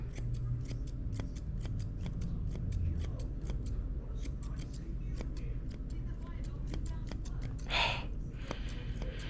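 Scissors snip repeatedly through a corgi's thick coat during a home grooming trim, the quick close cuts coming in a steady irregular rhythm under a low background hum, with a person talking over them.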